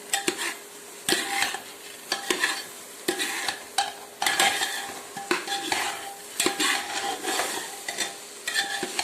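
Stirring and sautéing in ghee in a pan, with a spoon scraping and clinking against the metal in repeated strokes over a steady soft sizzle, close and clear, with no talking.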